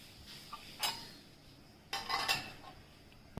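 Spoon clinking against a bowl while chili powder, turmeric, jaggery powder, salt and tamarind pulp are mixed, giving a few short scraping clinks with quiet gaps between them.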